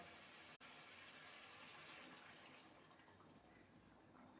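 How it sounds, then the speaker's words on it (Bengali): Warm water pours into a pan of chicken masala cooked with fresh cream, a faint, steady gushing wash that holds for several seconds after a brief cut, quiet and alone. "এবারে দিয়ে দেবো সামান্য উষ্ণ গরম জল"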